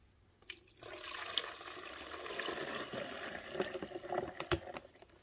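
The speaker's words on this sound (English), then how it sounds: "we're going to pour this water in the back, just like we would like if we were brewing a pot of coffee" Water pours steadily into the back reservoir of a drip coffee maker during a cleaning cycle with Urnex descaler, a continuous splashing, trickling stream beginning after a brief pause and running close and fairly loud until the end.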